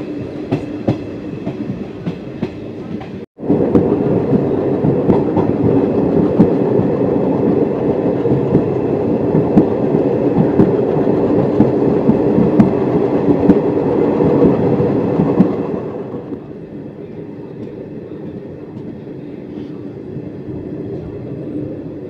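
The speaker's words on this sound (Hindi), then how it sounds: "अभी हमारी ट्रेन थार मरुस्थल से होकर गुजर रही है" A passenger train crosses the Thar desert between Barmer and Munabao, a loud steady rumble with rhythmic clatter heard from on board, easing to a quieter roll near the end.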